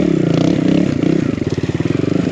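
A stock 2023 Husqvarna TE300i dirt bike rides a trail with obstacles. Its engine rasps loud and close with a choppy, pulsing throttle, and clatter and scrapes come from the terrain.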